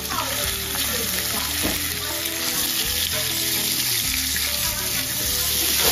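Chopped onion frying in hot oil for a Bengali chicken dish, a continuous bright sizzle with faint clinks and stirring underneath, steady and close with no talk.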